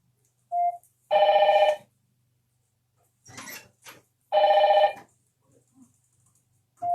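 Telephone ringing in bursts: two long electronic trilling rings, loud and near, with short clipped tones before and after and a brief rustle between them, no talk.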